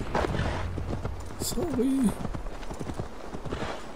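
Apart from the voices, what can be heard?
horse hooves while riding, from the video game Assassin's Creed Valhalla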